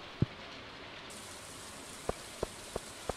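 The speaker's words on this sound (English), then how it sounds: "I don't know why it's been raining all fucking day" Steady rain hisses throughout in the farming video game Stardew Valley, with a few soft clicking taps near the end.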